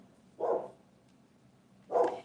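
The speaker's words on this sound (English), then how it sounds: "Hush, hound dog." A hound dog barks twice, a few seconds apart, each bark a short mid-loud burst heard alone over a quiet background.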